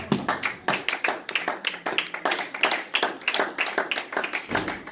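A church congregation claps in rhythm after a scripture reading during a French-language sermon, steady close hand claps of a medium-sized group keeping a quick regular beat throughout.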